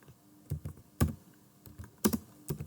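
Keys clatter on a computer keyboard while C++ code is typed, with short bursts of clustered keystrokes separated by brief pauses, close and fairly quiet, no talking.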